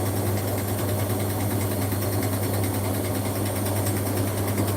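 An overloaded Beko Daily 60 washing machine runs with a steady, loud mechanical hum and a constant low drone, the tone unchanging throughout with no voices.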